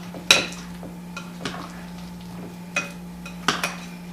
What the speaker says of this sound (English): make sure you mix that powdered sugar all the way up into the mixture